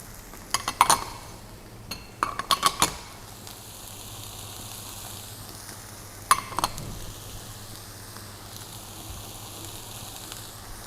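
Fried tofu and vegetables sizzling in a pan for a plant-based Buddha's Delight, a low constant hiss punctuated by quick bursts of utensil clatter as the mix is stirred.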